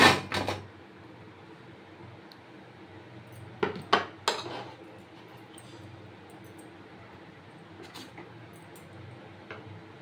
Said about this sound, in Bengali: আমি এই প্লেটটার থেকে ঢেলে দিচ্ছি।